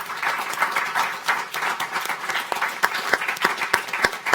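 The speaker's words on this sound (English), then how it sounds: "Let's give a round of applause to the panel." Audience applause for a panel at a policy discussion event, a room of people clapping steadily with some sharper individual claps standing out.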